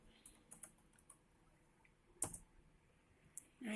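Several scattered keyboard clicks as a command is typed on a computer keyboard while setting up a Raspberry Pi, faint and sparse with one sharper keystroke midway and a louder burst at the end.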